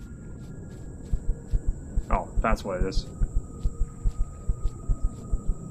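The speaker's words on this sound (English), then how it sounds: "Heartbeat." A low, steady double-thump heartbeat pulses throughout in the sci-fi survival game Empyrion: Galactic Survival, over a constant electronic hum, while someone briefly speaks over it.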